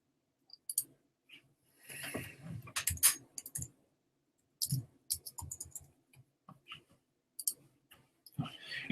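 Sparse clicks from a computer mouse on a Chromebook, in scattered short bursts with quiet pauses between them. They are fairly faint and close, with no talking.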